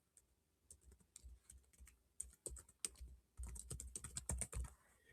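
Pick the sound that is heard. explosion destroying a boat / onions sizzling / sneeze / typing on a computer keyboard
typing on a computer keyboard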